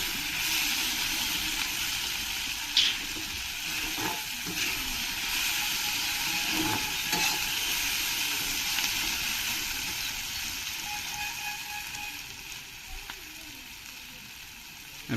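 A homemade fried rice mixture with beaten eggs frying in a pan gives a steady, broad sizzle that stays even throughout, with a few faint clicks and taps and no talking.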